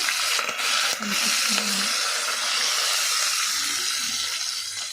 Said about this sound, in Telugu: ఇప్పుడు ఆవాలు వేస్తున్నాను, జీలకర్ర వేస్తున్నాను, కొంచెం అల్లం ముక్కలు, ఇప్పుడు కరివేపాకు వేస్తున్నాను నేను.